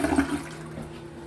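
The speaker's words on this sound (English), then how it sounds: "So the toilet, it did a few little hiccups and bubbles." A toilet on a dug well water system flushes with a short gurgling gush and a few bubbling hiccups, loudest at first and then fading to a faint watery trickle.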